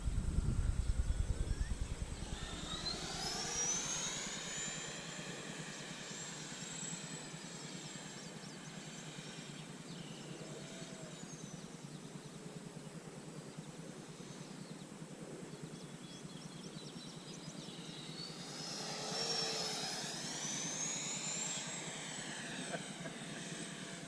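A Freewing F-14 Tomcat V2 RC model jet with twin 64mm electric ducted fans idling outdoors: a faint, steady whine with sweeping tonal rises near the start and again around twenty seconds.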